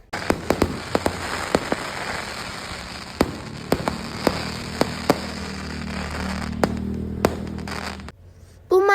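Sharp firework bangs at the Sky Ranch amusement park in Tagaytay burst repeatedly over a steady crackling, hissing backdrop, some close and loud, others scattered farther off, with a low rumble underneath.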